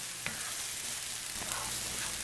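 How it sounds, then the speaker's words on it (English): Sambal ingredients sauteing in a pan for Malaysian nasi lemak, a steady hissing sizzle of frying that runs unbroken throughout, with a couple of faint stirring clicks. "I'm going to saute these for about 10 minutes, get it to a nice reddish brown"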